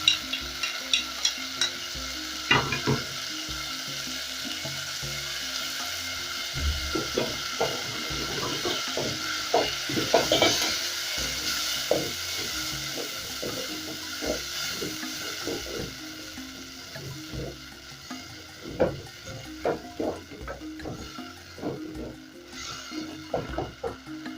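Tomatoes and tomato paste frying and being stirred in a pan for a coconut bean stew, with a steady sizzle and repeated scraping clicks of a utensil throughout, fairly close.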